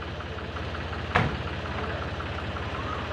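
A Mahindra tractor engine idles with a steady low, pulsing knock, close and continuous, broken by a single sharp click partway through.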